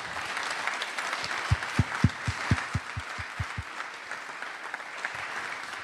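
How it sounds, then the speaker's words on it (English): Audience applause at a Lancia car presentation rises into a burst of loud, rhythmic clapping in unison, then settles into steady scattered clapping from a large crowd. "you are right to applaud Luca and the Lancia team"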